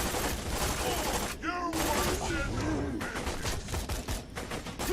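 Heavy gunfire in a Borderlands 2 firefight: rapid overlapping shots and bursts, loud and continuous, with a brief lull and some game sounds and a voice mixed in.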